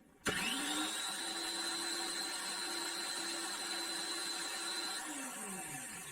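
An electric drill machine starts up and runs steadily with a loud, continuous whine in a bench test of a current-limiting setup, then begins to wind down near the end.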